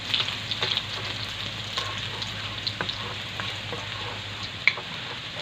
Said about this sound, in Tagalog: Unahin natin yung bawang.